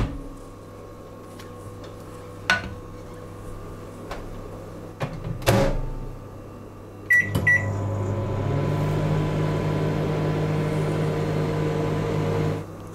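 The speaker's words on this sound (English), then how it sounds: "I then put the butter in the microwave for 1 minute" A few clunks and a door thud, a beep, then a microwave oven melting cocoa butter hums steadily with a low, continuous drone.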